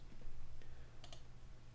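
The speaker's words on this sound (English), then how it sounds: "Hit the tab key on your keyboard to go to the next field" A tab key is pressed on a computer keyboard, giving a pair of quick, faint clicks close together over steady low room hum.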